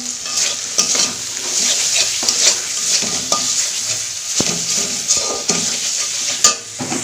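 Dried chili paste and spices sautéing in a pan for a prawn and taro curry, a loud continuous sizzle broken by frequent scraping and clattering strokes of a spoon against the pan, with no voices.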